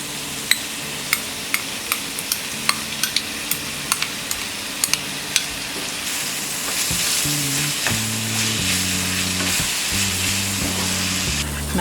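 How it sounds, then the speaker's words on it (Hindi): Carrots, beans, onion, capsicum and tomato frying in a pan for masala macaroni, sharp ticking clicks at first, then a denser sizzle with stirring, close and fairly loud, no voices. "हमने 2 मिनट तक गाजर और ये बीन्स और अनियन फ्राई कर लिया है। अब हम इसमें डालेंगे ये शिमला मिर्च"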